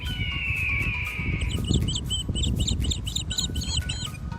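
Outdoor birdsong near a parked Dacia Logan: a long high whistle, then a run of quick repeated chirps over steady low background rumble.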